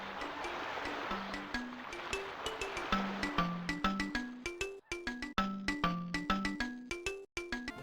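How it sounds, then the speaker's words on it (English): Soft wind and ocean waves wash over a beach on the Yoshi's Island title screen, a gentle hiss of surf under a plucked, chiming melody that grows more prominent as it plays. "The sounds of the wind and the waves crashing on the beach"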